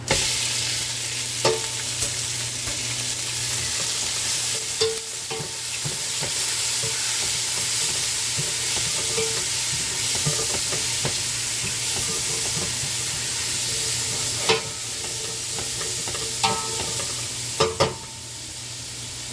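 Shrimp sizzle in a hot pan for seafood fettuccine, a loud continuous frying hiss broken by occasional clatters and scrapes of stirring, with no talk.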